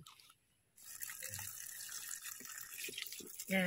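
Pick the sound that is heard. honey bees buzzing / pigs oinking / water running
water running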